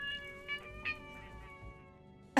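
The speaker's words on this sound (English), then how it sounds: "bothering my cat" A pet cat being hugged lets out several short, strained meows close by in a quiet room, ending with a sudden loud rustle.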